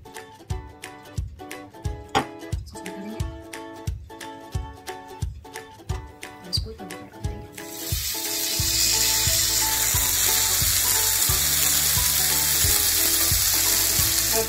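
Oil hisses and sizzles loudly on a hot tawa for paneer tikka, coming in abruptly after a run of rhythmic taps and clinks and then holding as a steady, close crackle.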